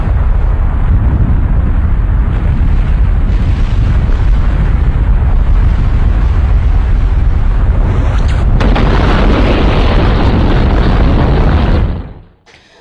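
Massive explosive blast evoking the 1883 Krakatau volcanic eruption: a loud, sustained low rumbling roar that swells into a heavier surge near the end, then cuts off abruptly.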